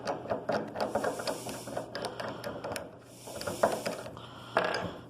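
A metal cylinder is unscrewed and spun off a mechanical equivalent of heat apparatus, giving a continuous close rattling, clicking and ratcheting mechanical scrape with uneven rhythm.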